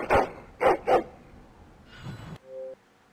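Dog barking in the Dragon Age Origins video game, three loud, close barks in quick succession followed by a softer growling bark, then a short tone.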